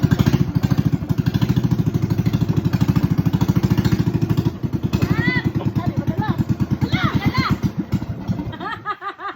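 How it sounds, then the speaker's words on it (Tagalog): A motorized outrigger boat engine chugs loudly and steadily in a fast, even rhythm close by, carrying a fishing trip to shrimp traps, while people talk and shout over it in the later seconds. "ito yung bangka na lagi niya sinasakyan papunta sa kanyang Bunuan"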